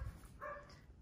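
A small, roughly 35-pound dog gives a single short, fairly faint bark or yip indoors, heard alone.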